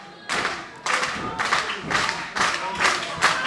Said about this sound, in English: Here you hear the factory crowd trying to get behind Grizzly Redwood